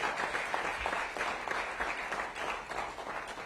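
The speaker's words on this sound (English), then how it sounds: "Give him a round of applause." An audience at a mayoral event in Washington applauds, a dense, steady burst of clapping from a crowd indoors that holds for several seconds without anyone speaking over it.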